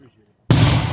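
A single loud firework bursts at a Fourth of July display at Sandy Bottom Park in Honeoye, New York, hitting suddenly after near silence and sustaining a broad, booming crackle.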